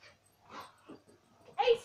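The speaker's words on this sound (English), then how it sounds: "My dog is going crazy." An elderly dog lets out faint whimpers and a short yip, brief scattered sounds in a quiet indoor space, ending with a louder bark-like burst mixed with a voice.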